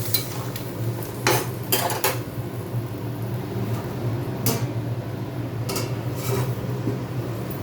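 A lid goes onto a pot of fish curry with a few metallic clanks and knocks, close by, over a steady background hum from a fan and cooking.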